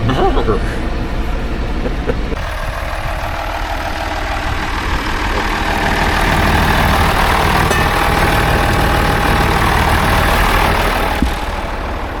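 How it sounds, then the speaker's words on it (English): A steady, rumbling tractor engine idles continuously at close range beside a baler, a low mechanical drone with a faint tonal whine, under intermittent background voices. "That's Mike's tractor, and this is Dad's baler"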